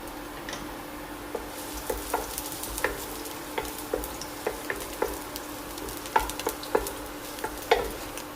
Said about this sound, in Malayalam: ചൂടായ എണ്ണയിലേക്ക് അരിഞ്ഞു വെച്ചിരിക്കുന്ന വെളുത്തുള്ളി ചേർക്കാം